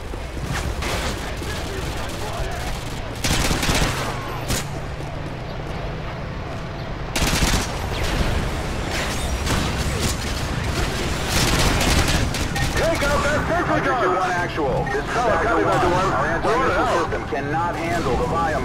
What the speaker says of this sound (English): Cannot handle the volume of RPG fire